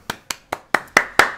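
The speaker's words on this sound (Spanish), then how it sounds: "Estás en el cuarto de al lado aplaudiendo." Six sharp hand claps come at a steady pace from the next room, each with a short roomy tail, growing slightly louder toward the end.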